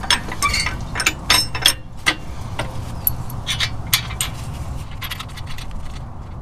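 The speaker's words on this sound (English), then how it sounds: "you come in with your carriage head bolt from the bottom, flat washer, and then get your flange nut on there" A flange nut is threaded onto a carriage bolt with a flat washer while a rear differential skid plate is fitted to a 5th Gen 4Runner, with close metallic clinks, taps and scraping in an irregular rhythm.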